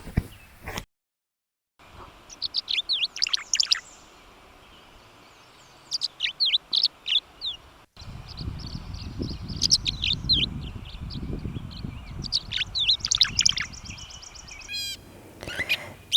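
Thin, high mewing bird calls come in scattered bursts over a quiet outdoor hum at an Audubon sanctuary in Hampton, Connecticut, with a rumble of wind or handling noise in the second half.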